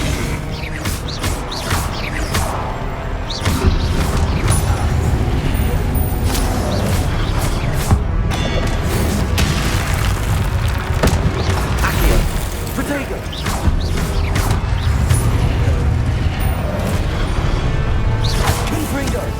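Repeated Confringo fire spell blasts boom and crackle in the Hogwarts Legacy video game, dense and loud amid ongoing combat effects and music, with a voice talking throughout.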